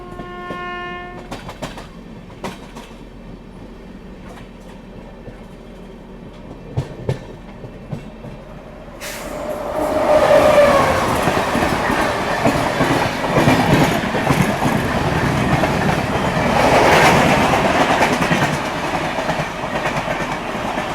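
The Bhagat Ki Kothi Express rolls along the rails, first a steady rumble with a long train horn, then a louder rush of clattering wheels and passing wagons as another express crosses close by.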